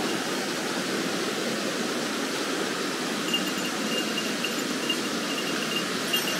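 A waterfall at the Norikura Highlands, seen from a viewing platform, pours in a constant broad rushing roar that stays steady and fairly close throughout, with no voices.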